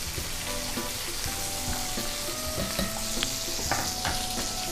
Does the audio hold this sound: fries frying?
yes